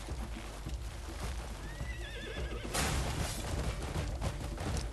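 A horse in the video game Crimson Desert neighs with a wavering whinny, then galloping hoofbeats and rushing movement swell up, dense and steady, with no talking over it.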